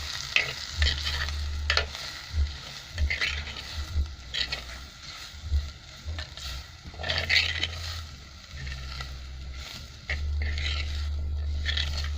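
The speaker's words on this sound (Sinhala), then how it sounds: "මම දැන් මේකට අපේ කරවිල ටික එකතු කර ගන්නවා." Bitter gourd frying in a pan and stirred with a utensil, added after other ingredients browned: a steady sizzle broken by repeated scraping stir strokes at an uneven rhythm, fairly close and without speech.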